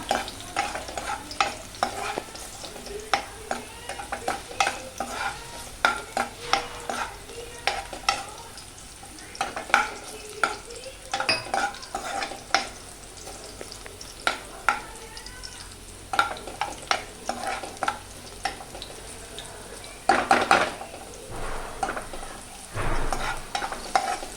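Onions slowly frying on low heat in a pan for pav bhaji, a soft continuous sizzle broken by frequent scraping stirs of a spatula, close up and irregular, with a louder flurry of scraping near the end and no talking.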